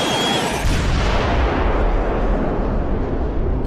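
Spaceship plasma laser fire sound effect, a loud continuous barrage of booming, crackling blasts with a brief high whine at the start, sustained for several seconds before tapering.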